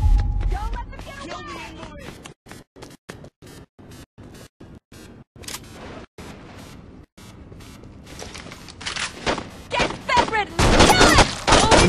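Rapid bursts of gunfire crackle in the Saints Row 2 video game, sharp shots coming in quick, regular volleys, with voices heard over the shooting near the end.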